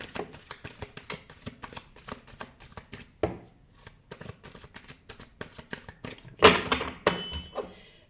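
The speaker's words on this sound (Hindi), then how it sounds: "मैं हमेशा की तरह 3 बार कार्ड को शेफल कर लेती हूँ" A deck of tarot cards is shuffled by hand, giving a steady run of quick, soft riffling flicks and light taps close by, louder bursts near the end.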